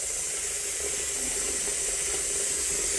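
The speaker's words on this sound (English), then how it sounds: "I fill up the sink all the way" Tap water pours steadily into a bathroom sink beside a newly installed Toto Drake toilet and pop-up drain, a constant, fairly quiet hissing splash with no voices.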